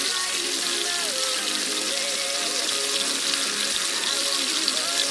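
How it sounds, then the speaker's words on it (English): String beans frying in oil in a hot pan for Szechuan dry-fried green beans, a dense continuous sizzle and crackle close by, steady throughout with no talk. "heat your pan and then add oil, then add the string beans"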